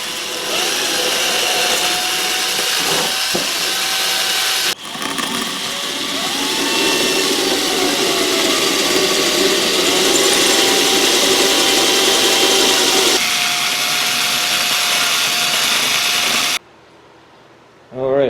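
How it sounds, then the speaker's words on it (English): A power drill bores holes in an N scale model railroad layout, whining steadily at close range with pitch shifts as the bit works through, stopping briefly near the end. "now that I got my holes drilled"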